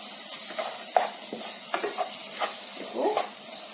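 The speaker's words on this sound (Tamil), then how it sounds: "ஒரு 2 minutes லோ ஃப்ளேமில் இந்த மசாலாலாம் ஃப்ரை ஆகணும் உங்களுக்கு." Masala sizzles gently in a pan over a low flame for tomato rice, a steady quiet frying hiss with a string of small stirring clinks and scrapes throughout, close by and with no voices.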